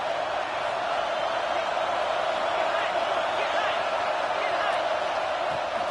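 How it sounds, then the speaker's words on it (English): A home crowd at a Florida Gators football game roars continuously, a dense, steady wash of stadium cheering that stays loud and unbroken throughout. "how nice is it to have the home crowd going absolutely bananas?"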